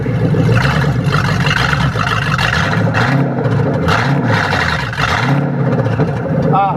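A 1996 Ford Crown Victoria with a five-speed manual swap runs loud on a test drive, its engine droning steadily throughout with rising and falling revs and road noise, a voice talking briefly over it.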